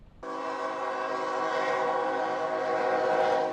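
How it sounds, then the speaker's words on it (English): A loud, sustained train horn blares suddenly and holds steady, a rich droning chord close by with rumbling rail noise beneath. "that's all you hear is the train, either the horn or the squeaking"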